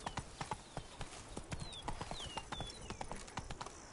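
Hoofbeats from the horse Roach in The Witcher 3: a brisk, close clip-clop at a steady gait, with faint ambient game sounds between the strikes.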